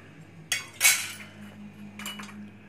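Chicken tikka marinade with drained yogurt being mixed in a bowl: a few sharp spoon-on-bowl clinks and scrapes, close and fairly quiet, with soft stirring between them.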